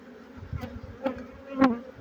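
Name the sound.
bees buzzing at a beehive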